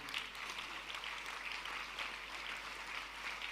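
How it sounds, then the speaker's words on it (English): A dinner crowd celebrating a king's silver jubilee claps in sustained, fairly faint applause heard from a distance, with a low steady hum underneath and no talk over it. "Please, let the applause be loud."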